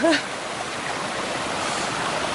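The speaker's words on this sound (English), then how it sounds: "And another stream!" A mountain stream along a forest trail rushes in a steady, broad wash of water, close and continuous, after a brief voice at the start.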